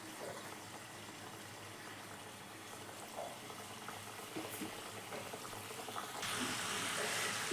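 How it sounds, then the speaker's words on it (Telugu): Layered madatha kaja pastries deep-fry in hot oil, a soft, continuous bubbling and fizzing that stays fairly quiet and swells slightly near the end, with no talking. "ఇప్పుడైతే మనం ముందుగా చేసుకున్న కాజాలను అయితే ఇలా ఆయిల్లో వేసుకుని ఫ్రై చేసుకోవాలి."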